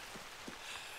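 Steady rain falls in the hunting video game theHunter: Call of the Wild, a soft continuous hiss of drops on surfaces with a few faint low thumps, quiet and unbroken.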